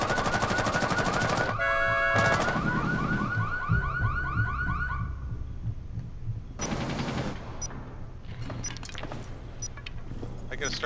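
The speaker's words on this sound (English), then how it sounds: "Sounds like they're trying to snipe the garage from far away" Gunfire in Rainbow Six Siege, with sniper shots from a distance mixed among sharp bursts, electronic alarm-like tones and game effects, while players talk.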